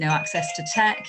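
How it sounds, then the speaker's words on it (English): A home doorbell, set to play a holiday tune, chimes in a steady electronic melody while a person keeps talking over it. "I'm really sorry, but that's my doorbell, which I thought was turned off"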